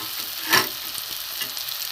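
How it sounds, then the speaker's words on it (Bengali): Grated potato and eggplant sizzle in a hot pan with spices, a steady close frying hiss with one brief louder scrape of a stirring spoon partway through. "একটু মশলা দিয়ে কষে নেব।"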